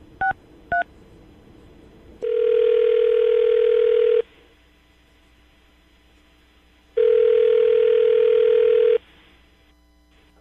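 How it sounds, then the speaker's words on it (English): Telephone keypad tones dialing a number on a morning radio show call: two short beeps, then two long steady dial-type tones separated by quiet, clear and close, with no talking. "I'm going to dial the phone number right now"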